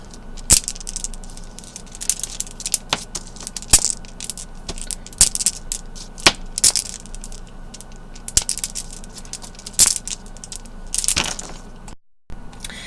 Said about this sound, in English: you would make a sort of flipping motion, so this end clicks against the beads there